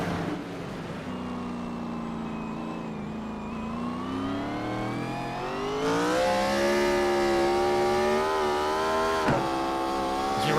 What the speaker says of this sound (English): you ride on board here with Michael Tucker, you can hear how much those rear tires are spinning, trying to put the power down